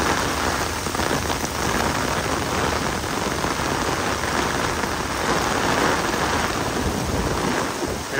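Heavy typhoon rain pours down in a dense, unbroken hiss over a flood-control site, loud and steady throughout with no voices.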